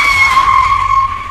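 A car brakes hard to a stop with a loud, sustained tire squeal that holds steady for just over a second and then fades slightly at the end.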